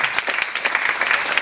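A short burst of audience applause for junior dancers at an evening dance event, steady dense clapping from a crowd heard at moderate distance.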